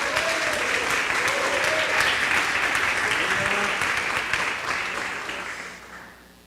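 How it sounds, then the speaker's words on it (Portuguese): A church congregation gives a round of applause, sustained crowd clapping over a sermon setting that stays full and even, then tapers off toward the close. "dê a sua salva de palmas"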